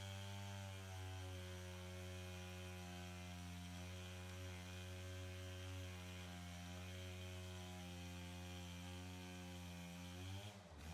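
A chainsaw runs steadily while cutting a tree during roadside clearing, its engine a constant droning buzz held at one pitch for about ten seconds before a brief rise near the end, heard alone without talk.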